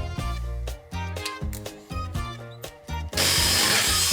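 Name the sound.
power drill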